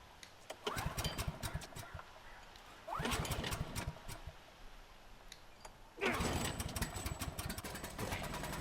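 Vehicle engine cranking and catching in The Last of Us, heard as several bursts of starter churn and revving, the last one roaring to life and continuing to run.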